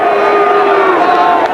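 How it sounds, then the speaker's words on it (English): Stadium crowd at a 1996 rugby league match between Rabbitohs and Eels, a loud continuous roar of jeering and shouting that fills the whole moment without a break. "And the crowd's giving him heaps on the far side."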